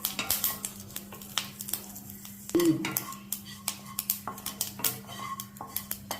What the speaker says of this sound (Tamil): கடுகு போடுறோம்மா. இப்போ கடுகு நல்லா பொரியணும்.